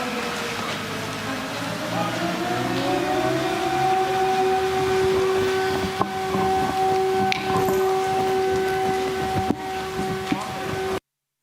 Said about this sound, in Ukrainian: ми почули, що найменше кілька разів лунала ще додатково повітряна тривога